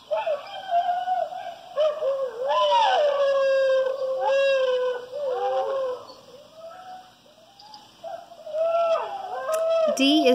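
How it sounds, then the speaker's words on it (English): Several rising and falling howls from dingoes, some overlapping in chorus, carrying clearly with brief pauses between the calls. "D is for dingo."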